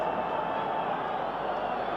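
An enormous noisy football crowd at a Scotland versus Czechoslovakia World Cup qualifier, heard as a dense, steady roar of thousands of voices that holds level and unbroken from start to finish.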